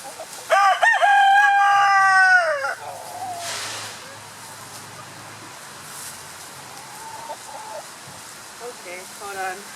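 A rooster crows loudly and close for a couple of seconds, followed by softer scattered clucking from chickens around a backyard, with a faint voice briefly in the background.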